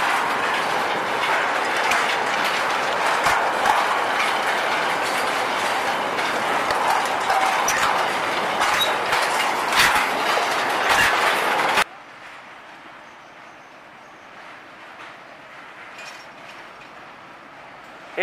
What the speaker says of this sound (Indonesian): Ini dia lori nomor 12, Hokuriku PG Semboro